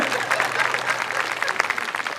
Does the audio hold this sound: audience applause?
yes